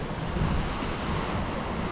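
Sea waves crash against rocks on a Brazilian coastline seen from a jungle clearing, a continuous rumbling surf roar with some wind buffeting the microphone, and no voices.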